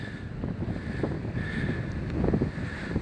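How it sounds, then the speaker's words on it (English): Wind buffets a microphone outdoors on a hillside above Thurnham in Kent, a steady low rumbling roar that swells and gusts throughout, with no voices. "It's quite windy"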